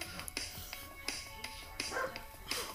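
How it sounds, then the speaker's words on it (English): A dog barking in a house, several short sharp barks spaced apart, fairly close but not loud, with a faint background hum. "Shut up, dog."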